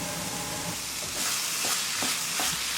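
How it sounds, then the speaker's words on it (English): Matar paneer bhurji is stirred in a pan with a soft steady sizzle, and several spatula scrapes come at a regular pace, close and without speech. "Mix it well."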